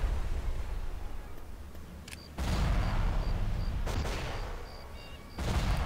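Dense, continuous gunfire in a Star Wars-style Black Sun battle game, heavy rapid volleys surging loudly in waves with brief lulls, up close and filling the scene.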